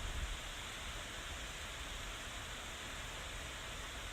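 Rain falling steadily at midnight, a dense, even, soft hiss with no breaks or other sounds across a few seconds, faint and continuous.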